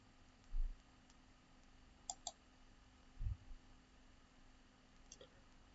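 Two quick, faint mouse clicks on OK in Origin graphing software to export an image, isolated clicks against a quiet room with low hum and a few soft thumps.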